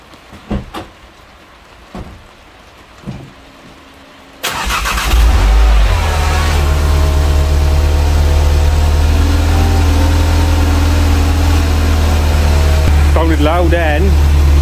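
An Audi S1 Quattro, back together after a water pump and thermostat replacement, cranks and fires into a loud, steady idle after a few quiet clicks and knocks; the engine runs close and continuous to the end.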